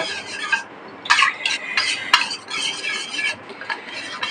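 Spices are stirred in a metal pan for a doi potol curry, with rhythmic scraping of a utensil and occasional clinks against the pan, close and with no talk.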